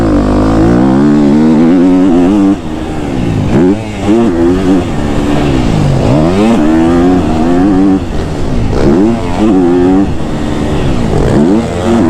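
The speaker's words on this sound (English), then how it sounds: "I don't even think I was on the rev limiter yet in third gear." A KTM 250 SXF dirt bike engine screams at high revs, rising and falling through gear changes with brief dips between pulls, loud and close for the whole stretch, as if ridden hard on a track.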